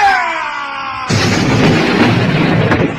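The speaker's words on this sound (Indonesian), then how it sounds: "ledakan keras terdengar dengan hebat akibat benturan tangan dari kedua tokoh ini" A loud, sudden explosion effect from two characters' hands clashing in an audio drama, a sharp broadband burst after a falling tonal sweep that rumbles on and sustains to the end.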